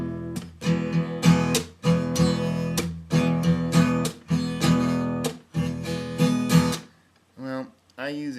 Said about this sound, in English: That's a traditional E.